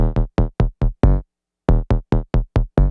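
Short, punchy bass notes from a Moog Labyrinth synthesizer play a random bass line in an uneven, bouncy rhythm, with a brief pause partway through before the pattern resumes.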